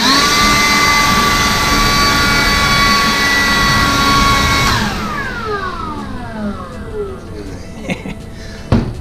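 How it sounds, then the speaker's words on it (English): A DeWalt battery-powered leaf blower runs at a pawn shop with a loud, steady rushing whoosh and a high whine, then cuts off and spins down with a falling tone and a few clunks. "It's a DeWalt battery blower."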